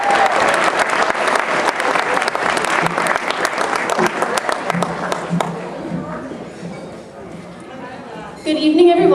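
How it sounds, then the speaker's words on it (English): An audience at an evening speech event applauds as a speaker is introduced, a sustained burst of many hands clapping that fades after about five seconds into room murmur and a few faint voices. "Big round of applause."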